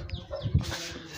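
A small hen clucks softly close by in a short burst of low, throaty notes, with faint background noise.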